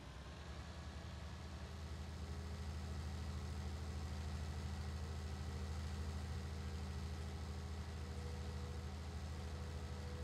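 A tractor engine idles steadily and close by, a low continuous rumble holding level for about ten seconds, with no talk over it.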